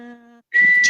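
A whistle is blown twice in quick succession: a reedy, lower-pitched toot, a brief silence, then a louder, shrill higher note, both close and alone.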